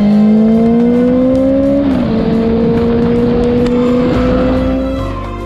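Motorcycle cruising along a highway on a mountain road, its engine a loud, steady drone near the microphone that steps down in pitch as the rider shifts gears, with wind rush throughout.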